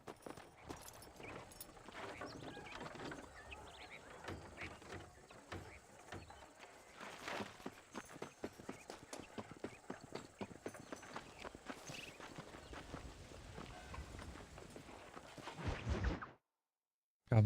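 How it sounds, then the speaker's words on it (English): Horse hooves clip-clop steadily through Red Dead Redemption's frontier world, a run of close, crisp hoofbeats with faint rustling and whooshes, cutting off abruptly near the end. "Vou amarrar o cavalo aqui."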